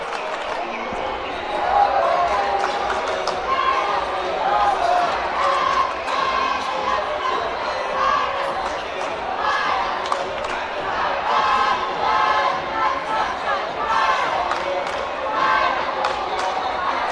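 Continuous crowd noise with cheerleaders chanting and cheering fills a high school playoff basketball game arena, steady and loud throughout, with voices mixed in and occasional ball or floor thumps underneath.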